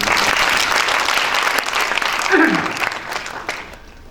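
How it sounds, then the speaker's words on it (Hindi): An audience at a book launch gathering claps heartily, a steady wash of many hands that swells briefly, then thins out and fades toward the end, with a voice heard faintly partway through. "एक बार उनकी उपस्थिति के लिए भी जोरदार तालियां।"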